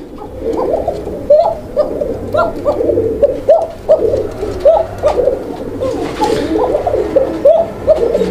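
Many pigeons coo continuously at a pigeon farm, soft throaty calls overlapping in a steady, busy chorus close by.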